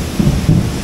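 Low, loud rumble of thunder in heavy rain during a waterfall hike at Damai in Malaysia, a brief close roll of booming noise with two swelling pulses.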